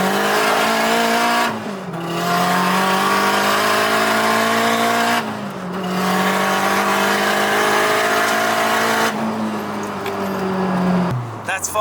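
A Ford Cortina fitted with a K20 engine and an open wastegate revs hard and loud up close in three long sustained pulls, each briefly cut off before climbing again, with voices talking underneath.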